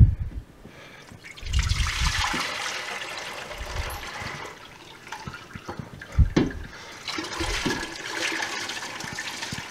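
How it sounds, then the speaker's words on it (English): Whey from homemade pepper jack cheese drains off the curds, pouring and trickling steadily at close range in uneven surges, with no talk over it. "Now let's drain off the whey."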